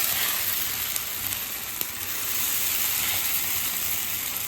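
Semolina handvo batter with sesame seeds sizzles steadily in hot oil in a pan, a continuous close frying hiss with a few faint crackles and no talk.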